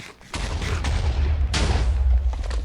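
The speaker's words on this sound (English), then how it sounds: "I'm taking this spare TNT that I had from the mine session and I'm blowing this thing sky high" A TNT explosion in the Minecraft video game: a sudden broadband blast, then a second loud burst about a second later, both over a continuous deep rumble that does not fade.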